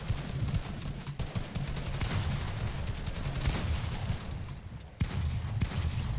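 Dense rapid gunfire in a Fortnite match, a steady barrage of sharp shots running nearly unbroken for several seconds, loud and close, with a sudden heavy crack near the end.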